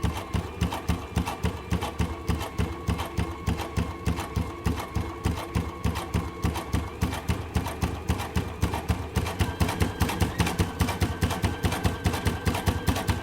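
A sewing machine fitted with a double fold bias binder stitches mask ties, running with a fast, steady, even mechanical clatter close up for the whole stretch with no pauses.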